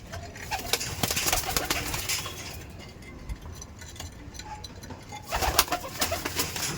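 Pigeons cooing inside a wooden loft, soft repeated coos close by, with fluttering and light clinks mixed into a busy, steady background.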